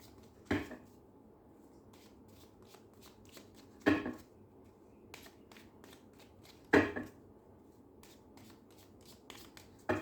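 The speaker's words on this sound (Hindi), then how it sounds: "ओके, मैं आखिरी कार्ड निकालती हूँ" Cards are shuffled and drawn for a tarot-style card reading: three louder riffling bursts, a few seconds apart, with soft snaps and taps between them, close and with no talking.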